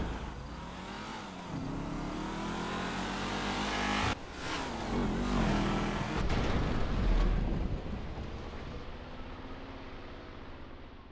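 A car driven in the video game GTA 5 roars steadily for about eleven seconds, its engine revving and shifting pitch, with a couple of sharp bursts of noise partway through.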